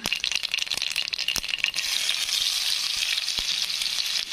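Onion goes into hot oil with cumin and mustard seeds: sharp crackles and pops give way to a loud, steady sizzle that holds to the end, close by.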